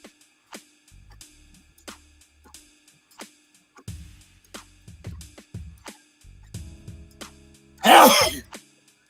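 A single loud human sneeze bursts out near the end, preceded by scattered soft knocks and low handling rumbles in an otherwise quiet space.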